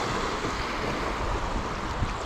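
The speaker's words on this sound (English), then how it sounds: "Some pretty big waves here." River waves on the Buffalo River wash around a canoe in a steady, close, roaring rush with no pauses and no voices.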